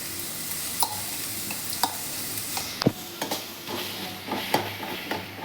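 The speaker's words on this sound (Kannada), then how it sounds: "ಹಸಿಮೆಣಸಿನ್ಕಾಯಿ ಪೇಸ್ಟ್ ಹಾಕಿದ್ಮೇಲೆ ಚೆನ್ನಾಗಿ ಎಣ್ಣೆಯಲ್ಲಿ ಬಾಡಿಸ್ಕೊತಾ ಇದ್ದೀನಿ" Green chilli and ginger paste fries in hot oil, hissing in a steady sizzle while a spoon stirs it, scraping and clinking against the pan every second or so, close and fairly loud.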